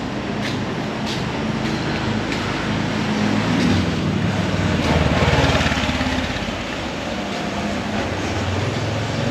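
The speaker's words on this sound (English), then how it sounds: "Motorbikes everywhere. That's how a lot of people get around." Motorbike traffic streams along Beach Road in Pattaya, with a constant engine drone and passing buzzes swelling and fading over a steady roadside rumble.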